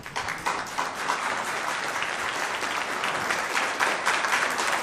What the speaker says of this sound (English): The more you clap, the more you take his time.